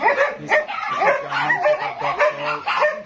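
Several dogs at a farm in Dinajpur bark and yip in quick, overlapping bursts close by, with whimpers and a few short tonal yelps between, barely pausing across the few seconds.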